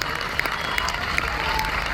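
A crowd at a live comedy and poetry gathering in Jhajjar applauds, a dense, close wash of clapping with a few sharper claps standing out, steady and loud throughout.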